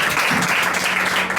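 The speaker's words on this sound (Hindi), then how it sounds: "ताली बजाएंगे 8 अध्याय वालों के लिए" Applause from a church congregation during a Hindi Bible sermon, a steady dense patter of many hands clapping together, fairly loud and continuous for a moment without talk over it.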